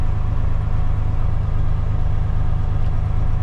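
A 2003 Kenworth T800 tri-axle dump truck with a Cat C13 compound-turbo engine idles steadily, a loud, constant low diesel rumble heard from inside the truck with no pauses or talk.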